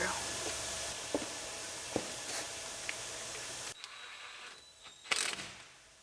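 A socket ratchet clicks while turning a screw on a Scion tC brake assembly near the ABS sensor. A few sharp ratcheting clicks sit over steady background noise, then a louder mechanical clatter near the end.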